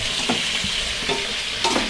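Meat (sakot) frying and being stirred in a pan while cooking in Baguio, a steady loud sizzle with several scraping stir strokes spaced through the stretch, no voices.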